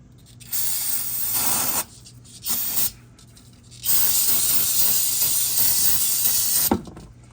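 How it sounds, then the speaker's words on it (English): Aerosol brake cleaner sprays onto the oil level sensor plug of a classic Mercedes in several loud, close hissing bursts, short ones followed by one long continuous spray ending with a clack. "I'm gonna get that cleaned with some brake fluid cleaner"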